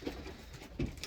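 Pigeons in a breeding loft give a few soft, low coos, near and faint, with slight rustling and no talk.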